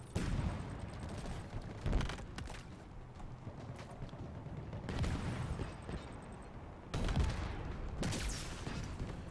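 Sniper and other gunfire in the video game Halo Infinite: several sharp shot bursts and explosive impacts over a busy, continuous battle din, with the loudest hits near the start, middle and end.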